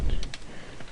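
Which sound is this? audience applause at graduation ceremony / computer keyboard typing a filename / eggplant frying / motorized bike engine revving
computer keyboard typing a filename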